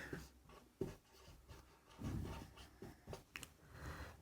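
Pen writing on paper while working a class 10 linear equations problem, a quiet series of scratchy strokes with short pauses and taps, close and faint with no talk.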